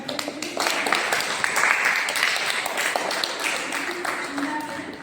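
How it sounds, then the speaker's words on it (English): A class of students applauds together, a dense wash of clapping that builds quickly and holds at a steady level for several seconds, with a faint voice underneath. "So let's clap for all of us."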